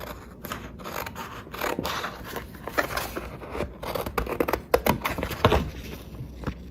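Scissors snip through a leftover vinyl sheet used for Cricut lettering, making close, quiet scraping and crisp cutting strokes in a steady series.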